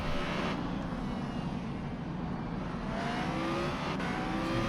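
A racing car engine drones steadily as Oliveira drives a lap through turns, a hairpin and an S-shaped chicane. The whine stays loud and continuous with slight pitch shifts and no voices over it.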